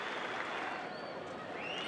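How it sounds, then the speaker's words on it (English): Cricket crowd at an Australia versus India Test match applauding and cheering fast bowler Brett Lee, a steady, dense roar of clapping and voices sustained throughout. "have a look at the response the crowd's given Brett Lee"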